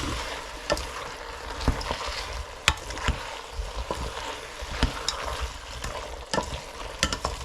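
A spoon stirs two ladles of natural yogurt into mushroom biryani frying in a pot, producing a steady sizzle with irregular scraping and clinking strokes, close and moderately loud throughout.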